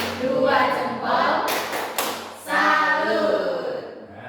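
Group 'tepuk salut' clapping pattern in a classroom-style session, hands thumping and clapping in a short loud sequence of several beats with bursts near the start and middle, a voice calling out over it.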